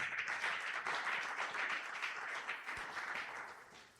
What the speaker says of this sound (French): Acclame encore Jésus-Christ notre Pâque